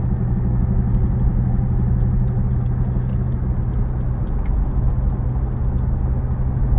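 Cabin of a 2006 BMW 525 on the road, filled with a constant low engine and road drone that stays smooth and even throughout, with no voices.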